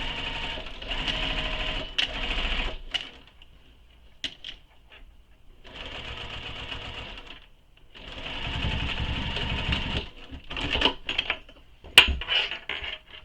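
A sewing machine runs a basting stitch on a fabric shoulder bag in several loud, steady bursts of fast whirring, separated by short pauses and a few light clicks.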